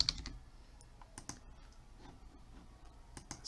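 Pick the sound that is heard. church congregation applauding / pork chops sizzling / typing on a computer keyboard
typing on a computer keyboard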